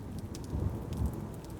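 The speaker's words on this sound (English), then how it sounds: "It had begun to rain and I hadn't noticed." Steady rain falls outdoors, a soft continuous patter with scattered drops tapping nearby and a low rumble beneath, unbroken and fairly quiet throughout.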